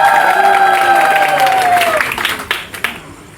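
A satsang audience claps together, the applause rising into a dense patter of hands as sustained, wavering voices from the crowd fade out over the start.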